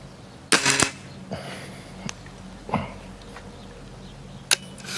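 HW97KT air rifle firing 4.5mm QYS domed pellets at 25 metres, two sharp close cracks with quieter clicks and handling noises between them, in a quiet setting.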